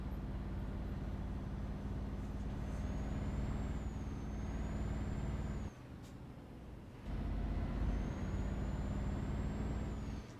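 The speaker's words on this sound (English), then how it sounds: "so the cab noise is perfect" Steady low rumble of a truck cab interior in Euro Truck Simulator 2, with a continuous engine drone and a brief dip in loudness midway before the hum resumes; no voices.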